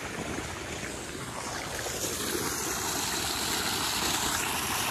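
Water pouring in from a pipeline outlet, a steady, loud rushing and gushing that fills the whole stretch without pause, with no voices.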